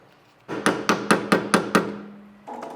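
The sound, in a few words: hammer and chisel knocking out a wheel hub stud on BMW E30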